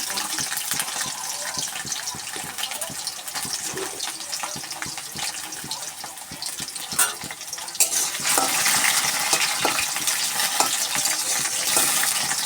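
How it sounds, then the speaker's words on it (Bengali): Taro fries in a pan with a dense, continuous sizzle and frequent close stirring scrapes. The frying grows brighter and louder toward the end. "কচুটা একটু ভাজা ভাজা হলে পটলটা দেবো"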